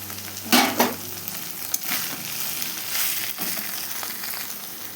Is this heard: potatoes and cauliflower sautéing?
yes